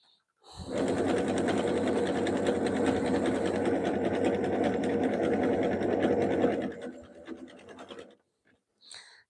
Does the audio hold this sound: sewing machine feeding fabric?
yes